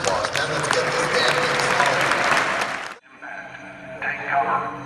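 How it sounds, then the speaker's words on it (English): Troops in Afghanistan break into loud applause for about three seconds, dense and close, before it cuts off abruptly into quieter background sound and faint radio-like chatter. "give yourselves a nice round of applause"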